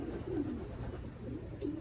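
Pigeons coo softly in repeated low, throaty phrases, one after another, over a steady outdoor background hum.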